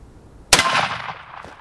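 A Remington 870 12-gauge shotgun fires a single 1-ounce sabot slug at an armor plate outdoors, a sharp loud blast followed by a ringing decay lasting about a second.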